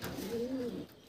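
A restless Dhille pigeon gives a single soft, low coo, faint and brief, with no other sound around it.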